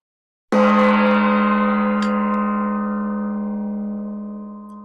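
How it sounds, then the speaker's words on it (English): A single mallet strike on a gong rings out sharply, then a rich, shimmering tone sustains and slowly decays, loud and close with no other sound. "we're going to ring our gong with this mallet"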